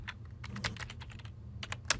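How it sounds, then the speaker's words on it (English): Fast, irregular keystrokes and shortcut taps on a computer keyboard during video editing in Premiere, close and crisp over a low steady hum. "I'm using exclusively the keyboard for the most part"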